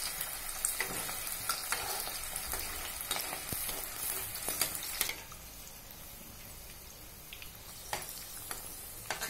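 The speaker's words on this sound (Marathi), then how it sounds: "तर आता आपण हे मंचुरियन तळून घेऊया।" Veg manchurian balls deep frying in hot oil, a steady crackling sizzle with bursts of bubbling and occasional stirring clatter, close and continuous, quieting somewhat midway.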